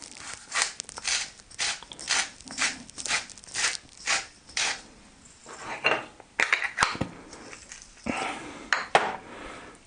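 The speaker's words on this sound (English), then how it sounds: "Just give it one last little mix up." A spoon scrapes and clinks steadily around a pan of vegan chickpea scramble, a run of rhythmic metallic strokes that is close and fairly loud, followed by a few quieter, irregular knocks.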